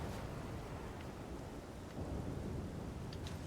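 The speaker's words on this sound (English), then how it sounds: "Okay, that was thunder." A deep rumble of thunder rolls through a video game storm, heard with steady rain hiss, quiet and distant-sounding for a few seconds.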